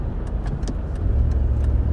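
Car driving on a road behind a slow big truck, a steady low engine and road rumble from inside the vehicle, growing slightly louder midway, with faint clicks.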